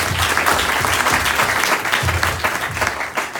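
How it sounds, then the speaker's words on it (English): A speech audience breaks into steady, dense applause that fills the room evenly for a few seconds, loud and continuous with no talking over it. "Everyone deserves a clap"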